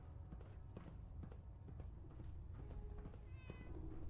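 A cat meows in the Fallout 4 video game, a couple of short mews over soft footsteps and faint background ambience, fairly quiet and without speech.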